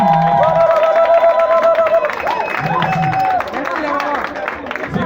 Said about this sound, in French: que vous vous joigniez à moi pour applaudir ces mamans-là